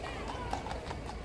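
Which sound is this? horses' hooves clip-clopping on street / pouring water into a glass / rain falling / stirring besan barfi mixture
horses' hooves clip-clopping on street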